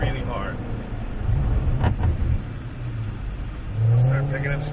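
A Jaguar F-Type V8 sports car accelerates on a test drive, its engine rumble rising to a louder roar toward the end, while an instructor talks over it.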